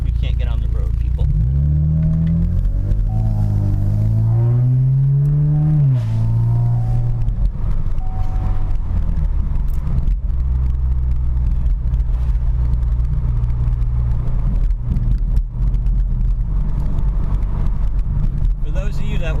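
A 2017 Chevrolet Camaro with the 2.0T engine driving on the road, a steady low cabin rumble with the engine note rising and falling early on, and a person talking over it.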